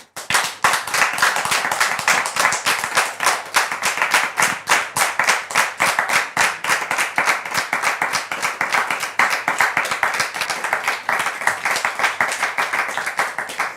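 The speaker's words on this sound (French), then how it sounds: "Public, merci de recevoir ici, sous vos applaudissements, le frère Daniel." An audience claps to welcome a guest onto a talk show set, brisk sustained applause with a clear rhythmic pulse, close and loud from start to finish.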